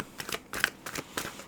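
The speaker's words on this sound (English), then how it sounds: "I feel like we just need to keep shuffling for a little bit longer." Tarot cards being shuffled by hand give quiet, rhythmic riffling bursts, about four short rustling flurries in quick succession with no talking.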